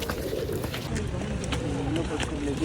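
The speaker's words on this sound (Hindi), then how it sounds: "ये जी कबूतर हैं गार हिरा के।" Pigeons at the Ghar e Hira cave on Jabal al-Nour in Mecca give soft, repeated coos in an open outdoor setting while people talk nearby.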